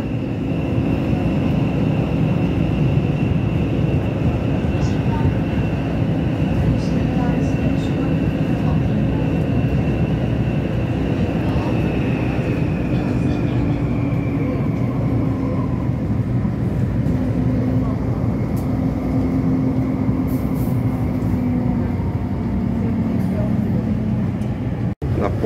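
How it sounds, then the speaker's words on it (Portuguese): Subway trains inside a metro workshop give a steady, loud low rumble with a sustained mechanical whine that slowly shifts pitch, continuous throughout with no break. "Essa aqui é a oficina do metrô."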